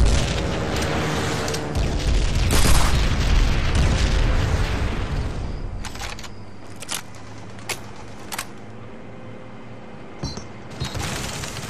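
A grenade thrown through a barn's top-floor window explodes in Call of Duty: World at War, a loud, rumbling boom that rolls on for several seconds and then fades into scattered distant pops and cracks.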